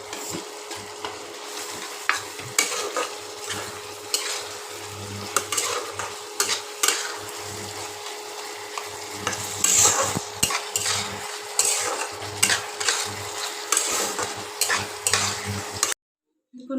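Fried fish pieces stirred into chilli sauce in a pan for chilli fish curry, a steady soft sizzle with repeated scraping and knocking of a spatula against the pan, no talking.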